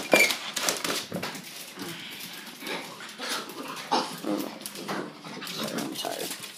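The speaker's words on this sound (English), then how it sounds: "check my dogs out like usual" Pet dogs whine and whimper at close range in a home, in short uneven bursts over a hissy, noisy background, with no clear talking.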